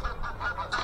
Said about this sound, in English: Oh, there goes the geese.